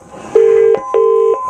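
Two long steady telephone tones, each lasting about a third of a second with a short gap between them, play loud and close over a faint continuous background hum as a phone number is dialed.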